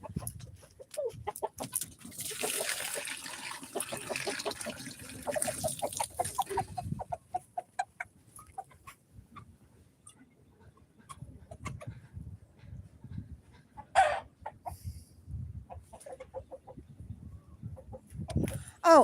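Chickens cluck and chatter nearby in irregular bursts, with a rooster's calls mixed in and quieter stretches between.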